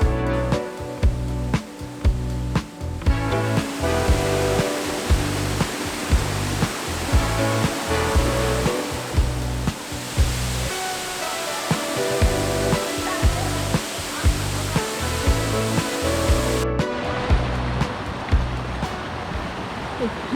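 Waterfall on Lombok, Indonesia, with rain falling, gives a steady loud roar of rushing water throughout, with a rhythmic thumping underneath.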